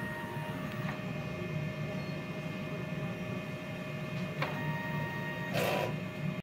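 DTF printer running a print head cleaning cycle, a steady mechanical hum and whir with faint clicks and a brief hiss of motion near the end.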